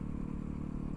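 A Yamaha YZ450FX supermoto engine drones hard while the bike is ridden, a brief, loud, continuous buzzing roar heard up close.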